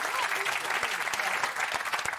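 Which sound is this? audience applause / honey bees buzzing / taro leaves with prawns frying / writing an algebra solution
audience applause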